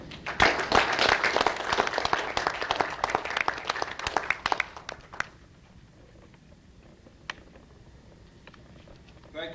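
Audience applause at a lecture welcoming historian Thomas DeBlack, dense clapping for about five seconds that thins out and fades to a quiet room with a few scattered claps.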